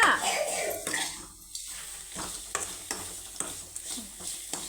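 Grated carrot frying in a pan for carrot rice, stirred with a spatula: a loud hiss at first, then repeated scraping strokes against the pan over a steady sizzle.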